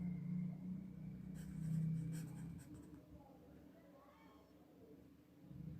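A geography teacher writes on a classroom board, producing a few quick, scratchy strokes close by, over a low background hum with a faint voice.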